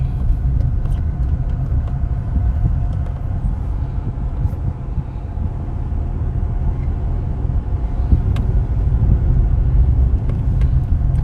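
A car rides over a bumpy road in Jamaica, near Mandeville in Manchester, with a steady, loud low rumble of engine and tyres and occasional knocks and jolts from the rough surface throughout.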